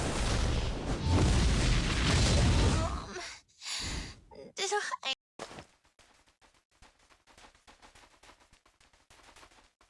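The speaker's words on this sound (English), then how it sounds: "The Limit Break 1 will add a final explosion at the last phase of the sword." A greatsword attack in a video game ends in a final explosion: a loud, dense blast roars for about three seconds, then breaks into a few sharp hits and fades into a quiet patter of small clicks.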